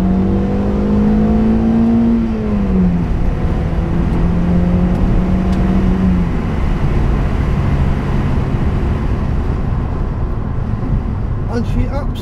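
A restored car, stripped to bare metal, reprimed, repainted and fully underbody-protected, drives along with a steady engine drone whose pitch rises and falls through gear changes before settling into road noise.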